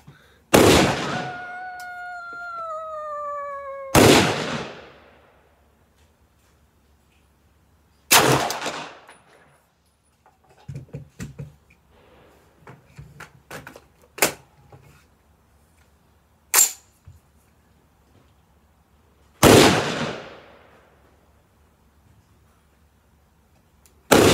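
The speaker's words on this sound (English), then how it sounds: "You shooting out dragon breath." Dragon's breath shotgun rounds fire outdoors, five loud booming blasts spaced several seconds apart, each ringing out into a long echoing decay with scattered crackles and smaller pops between shots.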